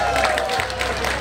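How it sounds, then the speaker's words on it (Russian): A festival crowd applauds at an outdoor family-day celebration in a fortress park. Dense, steady clapping runs through the whole brief moment, mixed with an amplified voice and a faint tone. "друзья, под ваши аплодисменты"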